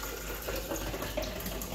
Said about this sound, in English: pour in my shake cup.